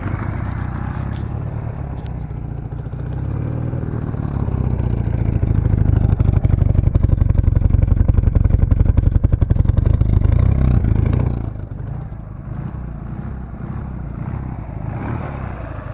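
Vehicle engine idling after being dug out of snow on a day of about minus five, a close steady low rumble that grows louder for several seconds and then drops back to a quieter even idle.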